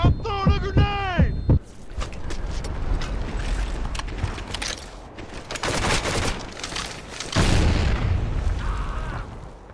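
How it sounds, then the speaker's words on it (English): Grenade blast in Medal of Honor: Heroes, a burst of booming explosions and gunfire after a shouted voice at the start, with loud impacts continuing under battle noise and a heavy boom near the end. "I'm throwing a grenade!"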